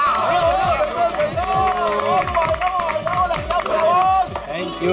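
Group applause from the neighbours of Gokuldham society, with many hands clapping steadily and loudly throughout. Cheerful voices and a musical sting play over it, and laughter and babble mix in.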